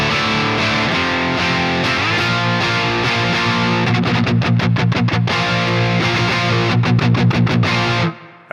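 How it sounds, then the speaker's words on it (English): A coil-split electric guitar runs through a Marshall amp simulator with reverb, playing loud distorted chords and then choppy muted stabs that leave a reverb tail behind them. "Let's go ahead and coil split that, and you hear the reverb going on behind there too."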